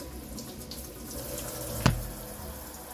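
Tap water runs steadily into a sink while vegetables are washed beneath it, a soft continuous splashing with one brief knock partway through.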